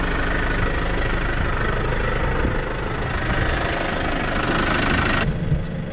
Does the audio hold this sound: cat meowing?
no